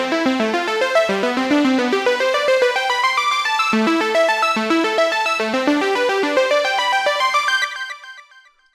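A Cubase arpeggiator runs complex chords through a rapid upward-climbing synth pattern, the notes ticking quickly and steadily at full level for several seconds before fading out near the end.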